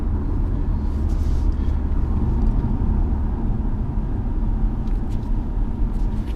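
A 2018 Toyota Camry SE accelerates on the road, giving a steady, loud broadband rumble of engine and road noise throughout with no talking.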